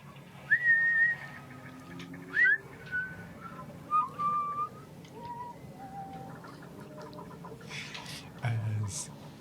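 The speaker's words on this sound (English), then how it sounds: "faintly in the distance whistling" Faint whistled melody drifts from a distance in the video game A Sea of Shadow, short rising and falling phrases separated by pauses over a quiet background hum.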